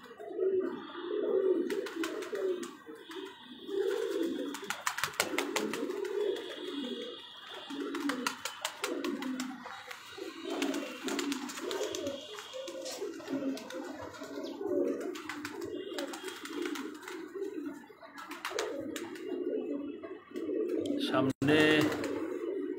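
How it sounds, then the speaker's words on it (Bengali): Pigeons coo in soft, repeated low phrases on a rooftop, steady and fairly close throughout, with a brief louder clatter near the end and light chirps overhead. "আজকে অনেকদিন পর ছাদে উঠছি। কবুতরগুলো প্রচুর গরম"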